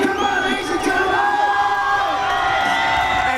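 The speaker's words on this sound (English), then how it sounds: "As you can hear, Craig Ross getting the crowd fired up for the last round here" Crowd at a 2016 men's heavyweight fight final roaring and whooping for the last round, a dense, loud, continuous wall of cheering with high shouts rising above it throughout.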